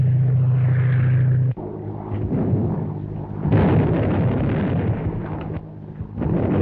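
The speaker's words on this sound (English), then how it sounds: "Landing tear gas bombs all around them, but they don't seem to have any effect." Tear gas bombs bursting around riders in a 1935 western film serial, a series of muffled booming blasts and rumbles with sharp pops, loud and close, separated by brief lulls.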